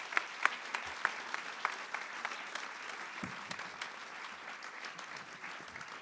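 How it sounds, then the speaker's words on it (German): A live audience at a German poetry-slam comedy show claps a performer onto the stage, a steady crackling wash of applause with a few louder claps near the start, slowly easing off. "Bitte klatscht ihn auf die Bühne"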